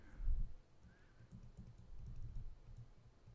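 Pen strokes and light taps from writing out a statistics problem, a soft, irregular scratching and tapping close by with no voices.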